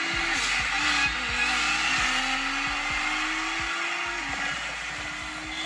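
A race car engine gives off a sustained high whine that slowly climbs in pitch, moderately faint, over a rough, pulsing low engine drone with no talking.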